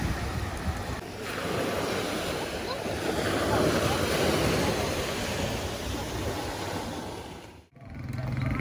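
Sea waves wash onto a beach in Zanzibar, a broad steady surf roar with wind buffeting the microphone, heard alone at moderate level with a brief dip near the end.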